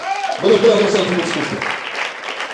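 A church service congregation claps and calls out in acclamation, a broad wash of crowd noise that rises quickly and holds, with a raised voice heard at the start.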